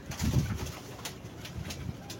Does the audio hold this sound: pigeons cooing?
yes